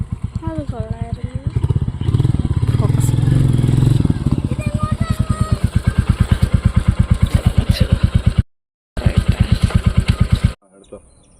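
A scooter engine runs close and loud with a steady throbbing pulse. It cuts out briefly near the end and then resumes, while voices talk over it at the start.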